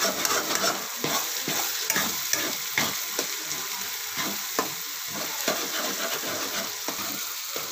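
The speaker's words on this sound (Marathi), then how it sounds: "तीन ते चार मिनटं हळद छान परतून घ्यायची। हळद सतत हलवत राहायची।" Fresh turmeric being sautéed in a pan and stirred constantly, a loud close sizzle cut by rapid rhythmic scraping strokes of the spoon throughout, with no voices.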